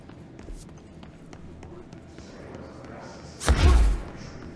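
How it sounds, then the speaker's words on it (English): In the video game Control, a flashbang grenade goes off as a single sharp, heavy burst that tails off quickly. It follows a few light taps and faint background sound. "Flashbang"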